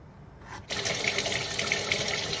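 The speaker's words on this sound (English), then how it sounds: "Wash my zucchini as I wash all my produce." A kitchen tap turns on and water runs steadily into the sink while zucchini is washed, a loud close gushing stream that starts after a brief quiet moment.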